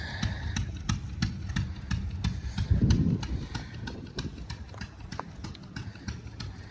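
A 1948 Ford 8N tractor runs at a fall tractor show. Its engine gives a low, steady putter with rhythmic clicking and a brief louder swell midway, and no one speaks.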